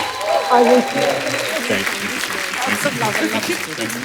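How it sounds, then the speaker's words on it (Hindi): A studio audience on a comedy talk show applauds to welcome actor Ahan Shetty, the clapping steady and fairly loud for about four seconds while a host's voice carries on over it. "जोरदार तालियां होनी चाहिए।"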